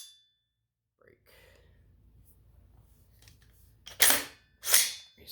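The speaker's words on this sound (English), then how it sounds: "All right, trigger reset and break." James Madison Tactical Black Ops Evo trigger dry-fired up close: faint handling noise, then two sharp distinct clicks of the reset and break about a second apart.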